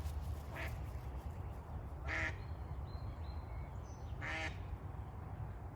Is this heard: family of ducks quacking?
yes